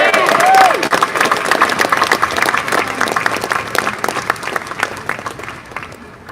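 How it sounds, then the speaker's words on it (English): Applause from the audience at a right-to-life demonstration outside Dáil Éireann in Dublin, a dense steady clapping crowd that starts loud and slowly thins over several seconds, with some voices mixed in. "give a big round of applause to our next speaker"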